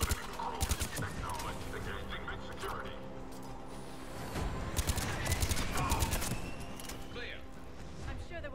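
Gunfire rattles through a Mass Effect 3 battle, with bursts of rapid shots and impacts layered over in-game voices and a steady combat din.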